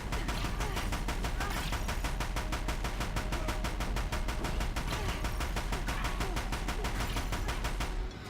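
Sustained rapid machine-gun fire from Deathbringer machines in Horizon Zero Dawn, evenly spaced bursts hammering continuously and loudly for several seconds before cutting off.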